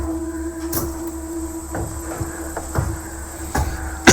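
Sharp knocks and bangs, several spaced irregularly, from a loose cupboard door or window shutter rattling in strong wind at a run-down lakeside resort at night, heard fairly close over a steady hum with no talking.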